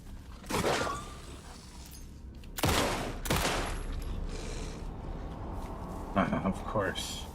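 Gunfire in the video game Alan Wake 2: a few loud, separate broadband bursts of shots spread over several seconds, with someone talking underneath.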